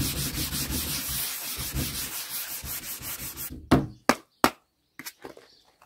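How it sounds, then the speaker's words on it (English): Fine sandpaper rubbed by hand over a delicate surface during a home renovation, a dense close scraping run of strokes that stops, followed by a few sharp separate knocks and brief rubs. "Trying to use a bit of the finer sandpaper because this is very delicate, so try not to use too much of the sander."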